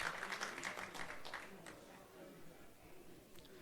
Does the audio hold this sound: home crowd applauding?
yes